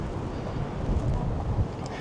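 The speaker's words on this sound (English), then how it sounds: "Oh, it's quite windy up here." Wind buffets the microphone in a continuous low rumble, gusting slightly louder partway through, with no voices.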